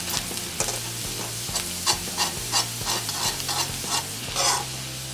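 Finely chopped garlic fries on low flame in butter and oil, a continuous soft sizzle punctuated by rhythmic clinks and scrapes of a spoon stirring in the pan.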